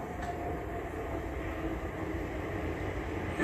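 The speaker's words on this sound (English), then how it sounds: "please board the train now arriving on platform 1" A train arrives at platform 1 at Chichester station, West Sussex, rumbling steadily in a continuous low mechanical roar with no voices.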